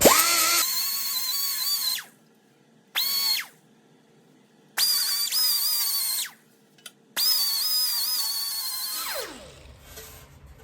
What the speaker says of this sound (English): Drill my spot weld holes.